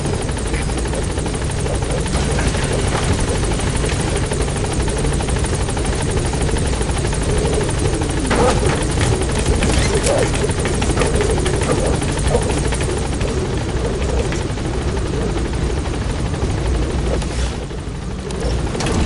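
The Pequod helicopter in Metal Gear Solid 5 hovers close at a landing zone, a loud, continuous rotor thrum and engine whine that holds steady for the whole stretch, then eases slightly near the end.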